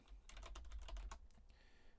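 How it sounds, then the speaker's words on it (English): Rapid, quiet clicking of a computer keyboard during a Minecraft stream, a burst of keystrokes close to the microphone that trails off into lighter taps. "To make sure I am typing it correctly too."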